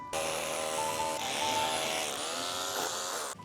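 A steady, high-pitched whine of a drill grinding into old stone while laying a foundation, continuous and close for a few seconds before cutting off abruptly as the drill bit breaks.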